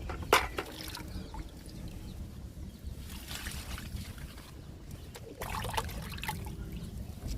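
Homemade liquid fertilizer made from peels is poured onto vegetable plants growing in a tub, giving a soft splashing trickle that rises and falls with a brief splatter near the start, faint and close.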